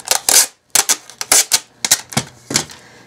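Packing tape pulled off its roll to seal a coaster mold for resin: a series of sharp, loud ripping bursts in quick irregular succession, close up with no talking.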